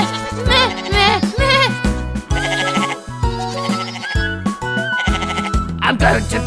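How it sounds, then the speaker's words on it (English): A cartoon goat bleating in a repeated, wavering 'meh' pattern, loud and close, with musical backing and some voiced tones woven through, in a children's storybook setting. "The goat stared at him, made a noise with his throat."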